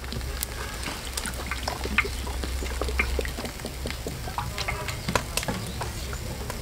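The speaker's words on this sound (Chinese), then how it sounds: "锅烧宽油" Plenty of oil heating in a wok crackles and ticks lightly, with scattered faint pops over a low steady hum, fairly quiet and close.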